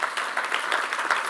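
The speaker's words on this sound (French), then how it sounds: "j'aimerais qu'on les applaudisse très très fort" An audience at a Europe–Africa cultural and economic forum claps steadily, a dense, even wash of many hands with small swells, fairly distant and moderately loud.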